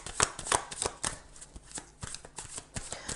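A tarot card deck is shuffled and handled close up, with a steady run of crisp riffling and slapping card sounds, quick irregular flicks throughout and no talking.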